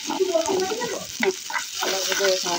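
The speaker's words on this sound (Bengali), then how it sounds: "পেঁয়াজ কুচি আর কিছু রসুন কুচি দিয়ে বাগার দেবো" Chopped onion and garlic hit hot oil for a dal tempering, sizzling loudly, with stirring clinks and scrapes breaking through the constant hiss.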